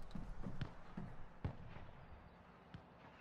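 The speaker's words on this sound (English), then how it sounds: "I hear someone shooting north." Distant gunfire in Call of Duty: Warzone on Rebirth Island comes as scattered faint pops and sharp cracks, a few irregular shots spread over a few seconds.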